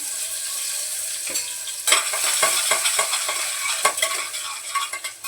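Chopped onion and curry leaves sizzle in hot oil, a steady bright frying hiss with repeated stirring scrapes and clinks of a spoon against the pan, close and continuous, no voices.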